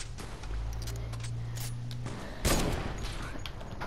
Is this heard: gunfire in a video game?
yes